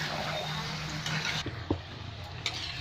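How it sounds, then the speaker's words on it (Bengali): Chicken biryani mixture sautéed in a pan, a steady close sizzle with the spatula scraping and clinking against the metal several times. "এবার এটা খুব ভালো করে আমি কষে নেবো"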